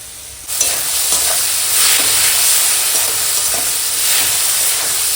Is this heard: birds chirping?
no